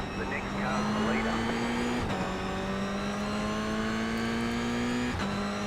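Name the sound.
Toyota GR86 race car engine during race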